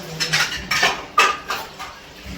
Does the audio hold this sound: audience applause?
no